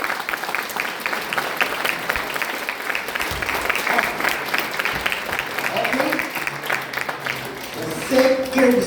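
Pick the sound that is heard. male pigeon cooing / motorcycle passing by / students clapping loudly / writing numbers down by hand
students clapping loudly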